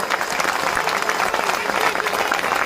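Dense applause from an audience at a festival gathering, steady and continuous throughout, with possible crowd voices mixed in.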